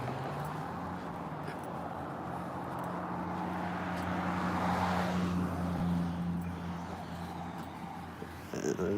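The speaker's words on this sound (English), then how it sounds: "a black car driving by me at the same time" A black car drives past on a road, its engine and tyre noise swelling gradually to a peak midway and then fading, heard from the roadside over steady traffic hum.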